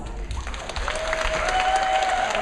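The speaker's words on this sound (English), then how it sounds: "I think they deserve a huge round of applause." An audience at a women's convention claps in a steady, even wash that builds slightly in strength, with a faint sustained tone running beneath the clapping.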